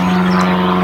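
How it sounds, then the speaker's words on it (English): Propeller plane passing overhead near a lake on a sunny day, a steady droning hum of the engine and airscrew, loud and continuous for under a second. "Plane going over."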